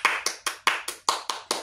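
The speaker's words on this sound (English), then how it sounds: "Let's give them a big round of applause." Eight sharp, evenly spaced hand claps in a quick steady rhythm, close and fairly loud, a lone person clapping in a round of applause for new subscribers.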